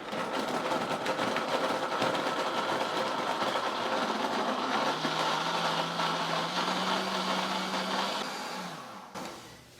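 A covered blender whirs steadily, mixing chocolate mousse ingredients, a loud continuous motor drone with a pitch that rises toward the end before it winds down and stops.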